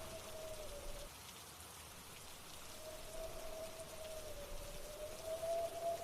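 Steady rain falls on a surface as a continuous, even wash of drops, with a faint, thin wavering tone drifting through it in the background.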